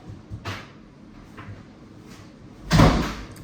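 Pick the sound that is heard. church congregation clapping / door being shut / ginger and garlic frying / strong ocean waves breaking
door being shut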